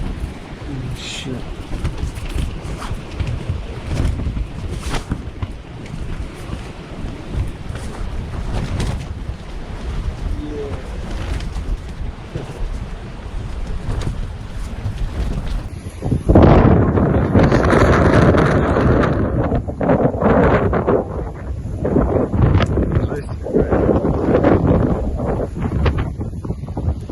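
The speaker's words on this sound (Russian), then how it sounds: "Такой вот жесткий ветер." Strong wind roars and buffets the microphone and a leaning tent in the mountains, gusting louder partway through, with a voice speaking faintly under the noise.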